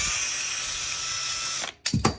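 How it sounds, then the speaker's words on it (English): A power drill whirs loudly and steadily up close as it drills off a screw head on a broken GoPro stand, then stops abruptly, followed by a few short clunks. "I'm going to hold it and just put the drill on it."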